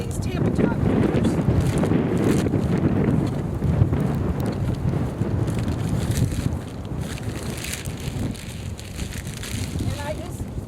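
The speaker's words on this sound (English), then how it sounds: "the wind's blowing them all over the place" Gusty wind blowing outdoors by backyard bird feeders, buffeting the microphone in a loud, continuous roar that eases slightly toward the end.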